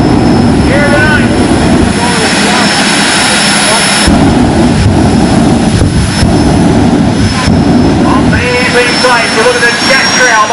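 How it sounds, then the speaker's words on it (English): A jet-powered drag vehicle fires up its jet engine at an evening Night of Fire event, a loud roaring rush with crackling bursts that surges and holds, with voices in the crowd and commentary over it. "The jet coming alive once again here this evening."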